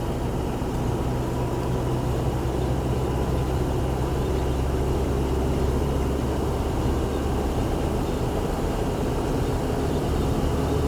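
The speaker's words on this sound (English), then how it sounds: "We hear that diesel clacking away, but road noise is not bad" A 1979 Toyota Land Cruiser FJ40 diesel cruising in 4th gear at about 50, its engine droning steadily with low road rumble throughout, continuous and close.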